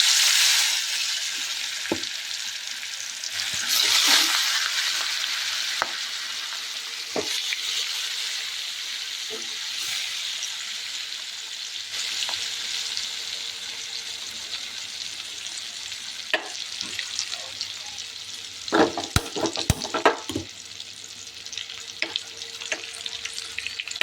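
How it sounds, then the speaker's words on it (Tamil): Marinated fish frying in oil in a kadai, a steady bright sizzle through the clip with occasional clatters and stirring knocks, rising into busier crackling bursts near the end. "மீன் பொரிக்கிறதுக்கு கடாய் வச்சு ஆயில் விட்டுட்டாங்க"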